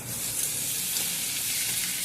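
Steady close sizzling of cauliflower mash frying in a wok, with soft stirring scrapes underneath, continuous and even with no voices.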